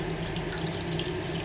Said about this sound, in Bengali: আমি এর মাঝে একটু গরম পানি দেব